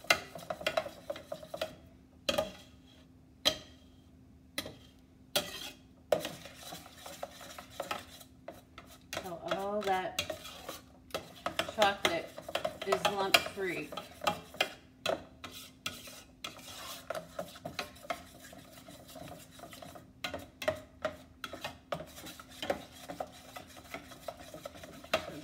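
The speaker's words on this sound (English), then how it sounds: "So we're just gonna continually stir this." A spoon scrapes and clinks steadily inside a saucepan of Hershey's chocolate frosting cooking over low heat, with soft, close rasping strokes and occasional metallic taps, no voices.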